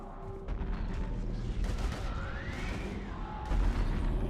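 Gunfire in the sci-fi shooter Mass Effect 3 booms in dense, heavy bursts alongside whooshing combat effects, loud and continuous through the short stretch.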